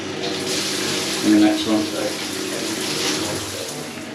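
A shower pump drives water through a shower, giving a steady hiss of spraying water throughout while a person speaks briefly over it.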